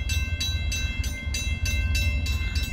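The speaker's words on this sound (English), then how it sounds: "I think it's a freight." A slow freight train rolls past on the tracks at close range, a loud steady rumble with regular wheel clatter repeating every few tenths of a second and no talking.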